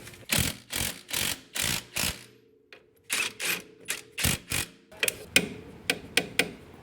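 A ratchet rapidly tightening pinch bolt nuts on a 2002-2007 Jeep Liberty front axle, heard as bursts of quick metallic clicking with short pauses between, close and clear with no talk.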